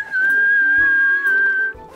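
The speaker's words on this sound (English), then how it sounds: "And whistle to say hello." A single clear, sustained whistled tone as a cheerful hello, loud and close, held steady for about a second and a half.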